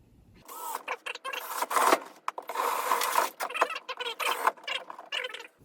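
A 2.25 inch hole saw cuts into PVC for a homemade fogger, producing a loud, continuous buzzing whir that breaks into bursts with short pauses between them.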